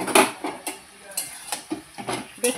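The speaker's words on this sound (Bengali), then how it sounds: "5 মিনিট হয়ে গেছে, আমি ঢাকনা খুলে এখন দেখে" A metal lid comes off a pot of simmering vegetables with a series of close clanks and scrapes, several distinct knocks of lid and utensil against the pot over a faint background simmer.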